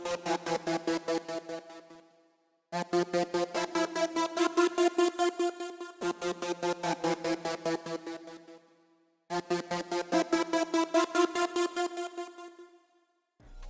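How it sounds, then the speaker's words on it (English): A Serum synth lead using the Pad Astra preset from Magnolia's Vision bank plays bright chords that pulse in a fast built-in rhythm, in four sustained phrases separated by short silences, clean and alone. "So then the next thing I added was this kind of like Serum lead."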